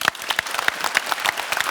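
A live audience at a golf lesson show claps for a participant who answered a question, a short burst of brisk, fairly close hand claps from a small crowd.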